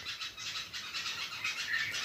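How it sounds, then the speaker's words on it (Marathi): Many small birds chirp and twitter together at dawn in a rural village setting, a dense, steady, high chatter at moderate distance with no voices. "पक्ष्यांचा चिवचिवाट, किलबिलाट"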